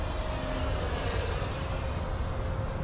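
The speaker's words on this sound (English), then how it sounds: "Wow, his plane flies so slow." A radio-controlled model airplane powered by high-voltage LiHV batteries flies overhead, its electric motor giving a steady, loud, continuous whine and drone over rushing wind noise, with no break in the sound.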